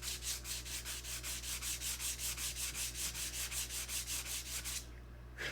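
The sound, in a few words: sanding wood by hand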